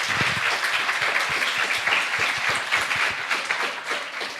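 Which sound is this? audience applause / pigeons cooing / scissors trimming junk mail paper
audience applause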